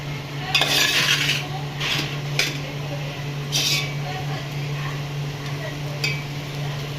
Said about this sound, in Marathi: तर व्यवस्थित मी परतून घेते पाच मिनटात होऊन जातो